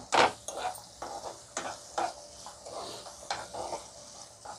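Chopped tomatoes cook in a pan for tomato coriander chutney, with a faint sizzle under repeated close stirring scrapes and spoon knocks coming roughly every half second.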